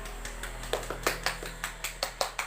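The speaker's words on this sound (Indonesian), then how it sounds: "Kita kasih aplaus dulu untuk." Sparse, light clapping from a small group of students applauding a presenting group in a classroom, a dozen or so separate claps at an uneven rhythm, fairly faint over a steady hum.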